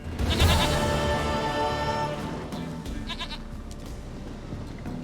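A goat bleats loudly and close by in The Witcher 3 video game, one long wavering cry that trails off, followed by quieter background ambience.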